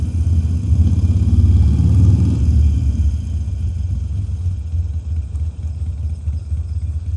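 A motorcycle engine gives a low, steady rumble ticking over at modest revs in Malta traffic, fairly loud and close, with a slightly heavier throb in the first few seconds.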